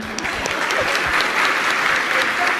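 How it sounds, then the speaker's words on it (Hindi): Steady, dense applause from an audience at a Jain religious discourse and question-and-answer session, continuous and even in loudness throughout. "बजाइए अपने लिए तालियां।"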